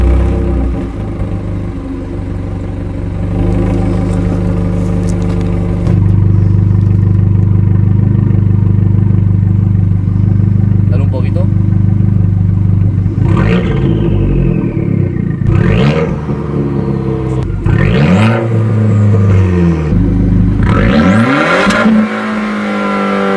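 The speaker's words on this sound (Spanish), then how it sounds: "tiene unos tubos de escape Monza, que son cojonudos, y se escucha muy bien el coche," A 2019 Abarth 595 Competizione with a Monza exhaust revs loudly and alone, starting with a steady idle and then rising through several sharp throttle blips. Each rev falls back with crackle from the exhaust.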